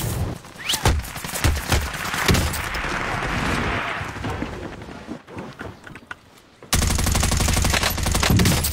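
Gunfire in an online shooter game, rapid bursts of shots and impacts rattling in dense succession, easing briefly before a sustained loud automatic volley takes over at the end.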